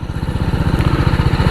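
An RR 310 motorcycle engine in sports mode, a loud, close, steady rapid thrumming pulse with no speech over it.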